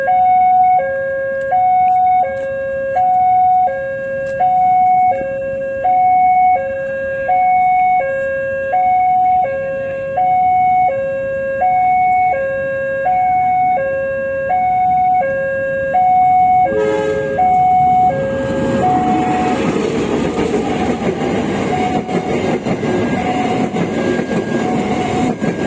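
A CC204 diesel locomotive hauling the Dhoho train sounds a repeating two-tone horn pattern, steady and loud for about seventeen seconds, before the noise gives way to a broad rush of the passing train.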